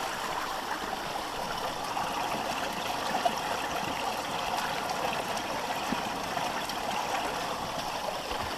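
A river flows in a steady, even wash of rushing water close by, continuous and without talking.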